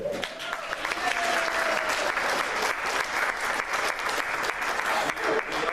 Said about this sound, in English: how about a special recognition and round of applause for Megan, our director today